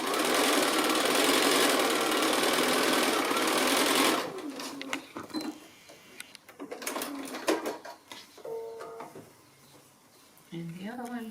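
A sewing machine runs in a steady, loud burst as small quilt pieces are stitched together, then stops, followed by quieter handling noises, fabric rustles and a voice talking.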